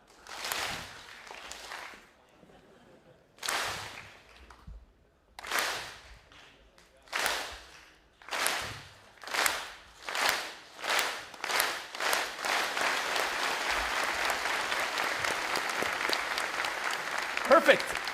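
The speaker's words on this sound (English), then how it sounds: "We'll do a clap because they were so good. We'll start very slow and go faster and faster, okay?" At a closing ceremony of the International Physics Olympiad in France, an audience claps in unison. Single claps start widely spaced, come quicker and quicker, then merge into sustained, loud applause from a large hall.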